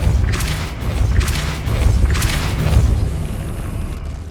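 A Depulso spell cast in the Hogwarts Legacy game, heard as a string of deep booming thuds and whooshing bursts, about three strong pulses over a steady low rumble.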